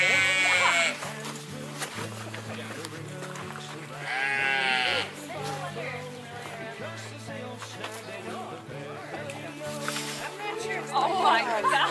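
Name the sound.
sheep bleating during shearing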